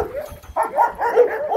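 Dog nearby letting out short whimpers and yips in an uneven run of small vocal bursts, no one talking.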